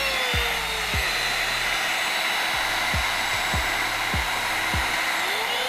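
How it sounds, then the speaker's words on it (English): A heat gun blows a steady, loud broadband roar while shrinking tubing over twisted wires on a Suzuki GSX-S1000 tail light install; a few low thumps of handling punctuate the continuous airflow. "now all we need to do is grab a heat gun and heat it up"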